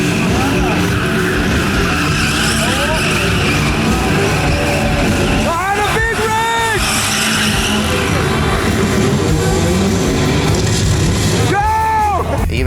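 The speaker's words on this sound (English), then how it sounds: "They even put their drift cars on 2 wheels and rode them right in front of us" Drift cars riding on two wheels at a stunt show in Italy, with constant loud engine noise and sharp tire squeals and skids breaking out twice, people talking over the din.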